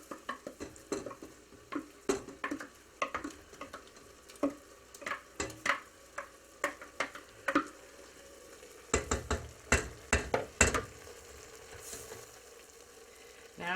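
Sautéed onions return to a pot of buttery, tender mushrooms for a cream of mushroom espresso soup, giving a string of close, sharp stirring clicks and scrapes over a soft sizzle, several quick clusters of knocks near the end.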